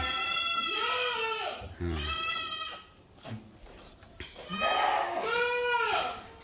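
Goats bleating in a colony pen at Bulungan Mandiri Farm, a goat farm, at midday: several loud, drawn-out calls from close by, with quieter stretches of pen noise in between.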